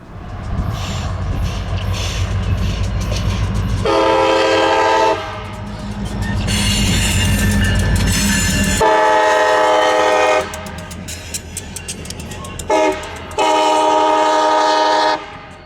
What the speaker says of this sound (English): provided a good subject to watch the long hood forward SD40 pass by